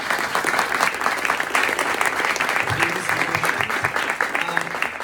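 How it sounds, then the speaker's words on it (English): Audience applause for housing panelists at Manny's, dense steady clapping from a crowd that carries on for the full stretch at an even level. "Round of applause for our panelists."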